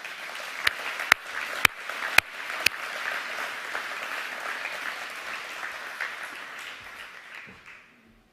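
Audience applause at a bank's annual general meeting of members, steady clapping from a large hall that swells with a few sharp louder claps early on, then fades out over about eight seconds.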